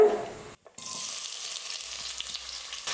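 Small onions dropped into hot oil for a country chicken curry set off a steady, bright frying sizzle that resumes after a brief silent gap and continues close and even, with no voices.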